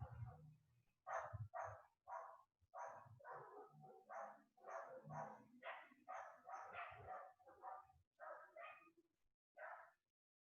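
Dogs barking around a residential neighbourhood, a rapid run of repeated barks and yips at moderate distance, clustered in bursts with brief gaps, with no clear voices over them.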